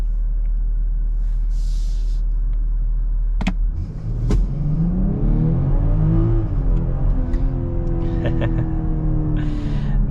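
A 2023 BMW X5 in Sport Plus mode accelerates hard from a low idle rumble, the engine note climbing sharply through aggressive upshifts, loud and close from inside the cabin with a faint voice briefly under it.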